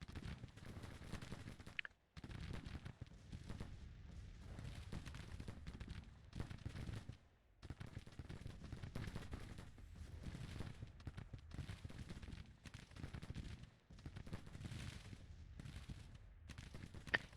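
Rolling volleys of rifle fire mixed with artillery booms crackle through a Civil War battle in the strategy game Grand Tactician: The Civil War, dense overlapping shots with brief lulls, somewhat distant.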